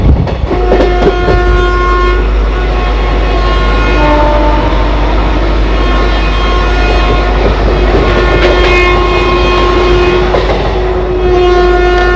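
A moving train, the 13031 Jaynagar Express between Howrah and Bandel, rattles steadily with clickety-clack rhythm while a long horn sounds repeatedly, loud and close, with no talking.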